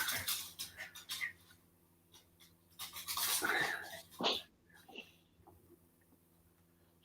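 An indoor dog gives short whimpers, squeals and breathy panting bursts, close but fairly quiet, separated by near-silent gaps and a faint steady hum.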